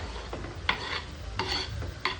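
Tomatoes go into golden-brown fried onions in a pan for chicken dum biryani, giving a steady close sizzle broken by several sharp spatula scrapes and stirs, with no speech.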